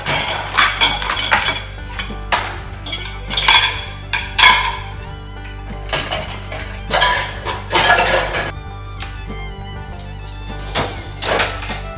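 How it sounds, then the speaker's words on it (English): Dishes, pots and cutlery clink and clatter in repeated bursts while a dishwasher is unloaded in a home kitchen, close and fairly loud, with no talk. "I did not deal with the dishes in the sink, and I'm pretty sure the dishwasher needs to be unloaded"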